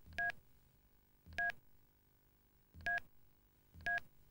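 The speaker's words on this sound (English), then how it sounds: "the phone changes immediately to numerical mode for you to enter the phone number" Keypad tones from a 1993 mobile phone sound as a number is entered: four short, clear beeps spaced about a second apart, quiet and alone.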